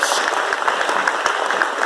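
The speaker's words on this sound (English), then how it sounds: "Can we have another round of applause?" A crowd at a national rural IT quiz final claps for six teams on stage, a short burst of brisk, close, continuous applause with sharp individual claps standing out.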